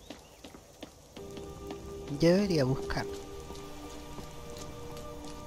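Steady patter of rain falling at night in Skyrim, a soft, constant wash of drops under someone speaking Spanish, with a brief louder tonal game sound in the middle.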